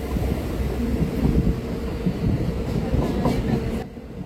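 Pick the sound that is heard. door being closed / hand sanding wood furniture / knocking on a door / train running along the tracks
train running along the tracks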